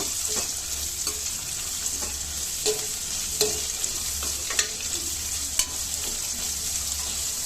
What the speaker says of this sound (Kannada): ಈಗ ಈರುಳ್ಳಿ ಹಾಕ್ಕೊಳ್ತಿದ್ದೀನಿ ಈರುಳ್ಳಿನೂ ಅಷ್ಟೇ ಕೆಂಪುಗಾಗೋವರೆಗೂ ಫ್ರೈ ಮಾಡ್ಕೋಬೇಕು